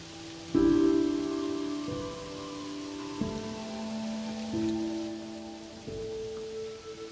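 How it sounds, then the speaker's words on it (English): Gentle rain falls at night in a soft, steady patter, sitting low beneath sustained, calm tonal music that carries the whole stretch. "Let the rain's rhythm be your lullaby, your peaceful journey into the calm of the night."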